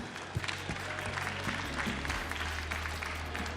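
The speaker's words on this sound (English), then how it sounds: "can I just have a quick round of applause" Audience applause at a Web Summit 2017 conference panel, a moderate burst of clapping from a seated crowd that holds steady for a few seconds, with a faint voice or two underneath.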